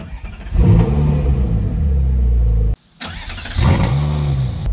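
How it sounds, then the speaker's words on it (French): A Ferrari sports car engine, a 458 Speciale or 488 Pista, cranks and fires with the key, then roars and revs loudly up close. It cuts off briefly before catching again with a sharp bark and settling into a harmonic, revving growl. "Il faut d'abord la rentrer avant de démarrer le moteur"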